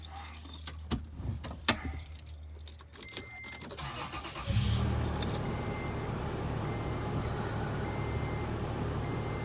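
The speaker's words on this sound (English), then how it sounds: "Start the car, let's see what happens." Toyota car started after a head unit stereo install: key jingles and clicks, a chime, then the engine cranks and catches, settling into a steady close idle rumble.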